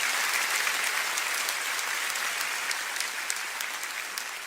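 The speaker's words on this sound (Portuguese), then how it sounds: "Você pode aplaudir ao Senhor." A church congregation applauds in worship, a dense, sustained wash of many clapping hands heard from a distance in a large hall, easing off slightly toward the end.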